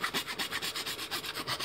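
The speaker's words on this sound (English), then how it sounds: "kind of just sanding down the burrs left by the drill, and really creating a nice smooth opening" Steady back-and-forth rasping of sandpaper smoothing the drilled opening of a toy blaster, removing drill burrs, in an even repeating rhythm at close range with no talk.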